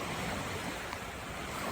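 Ocean surf at low tide on a shoreline, a continuous broad wash of waves mixed with wind buffeting the microphone, steady and moderately loud with no voices.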